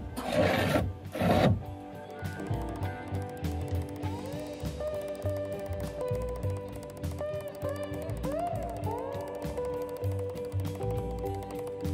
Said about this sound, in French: Avec un ciseau qui coupe bien entendu.